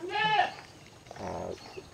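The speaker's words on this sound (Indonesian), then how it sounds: "Jadi kalau yang di sini ini jenis-jenis kambing peranakan Etawa." Etawa crossbreed dairy goats bleating nearby, one wavering high-pitched bleat at the start and a second lower bleat a moment later on a farm.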